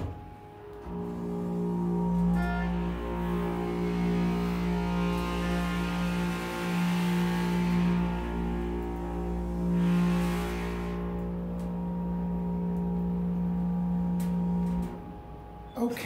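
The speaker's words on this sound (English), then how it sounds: "I think that's the loudest 330A I've ever been on. I think the muffler was broken." A loud Schindler 330A elevator in a university residence hall runs with a deep, steady low-pitched drone and buzzing harmonics for about fourteen seconds before winding down and stopping.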